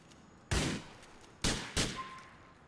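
Three loud gunshots ring out in Grand Theft Auto 4. The first comes alone and the last two fall close together, each with a short echoing tail over a quiet background.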